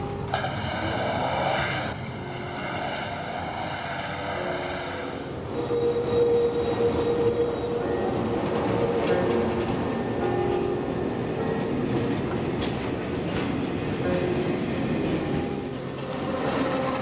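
East German tram rolls through a curved stop on Herbeckstrasse, a steady rumbling pass with wheel squeal and rising clatter, heard fairly clearly at moderate distance without any talk.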